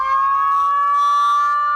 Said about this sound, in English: Did you want me to do the sirens again?